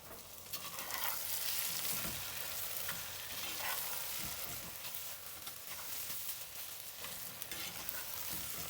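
Onion, garlic and ginger sautéing in a pan for Himachali mutton rara curry, a continuous close sizzle with repeated scraping stirs throughout, no voices.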